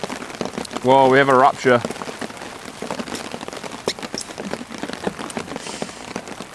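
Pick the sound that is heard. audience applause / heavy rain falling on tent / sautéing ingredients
heavy rain falling on tent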